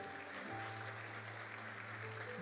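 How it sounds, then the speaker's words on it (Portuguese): Church congregation at a Portuguese-language prayer service applauding, a steady soft wash of clapping with a low sustained musical tone beneath it. "Você pode aplaudir o Senhor? Faça isso com uma alegria."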